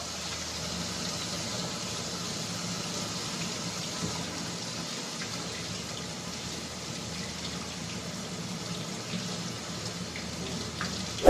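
Tap water runs steadily over saba bananas being washed in a sink, a constant broadband rush that stays even and moderately close throughout with no talking.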